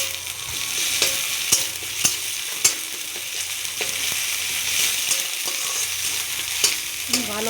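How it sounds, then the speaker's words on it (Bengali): Onions frying in a pan give a steady, close sizzle, with sharp clicks and scrapes as a spoon stirs them every second or so; there is no talk. "পেঁয়াজটা লাল লাল করে ভেজে নেব"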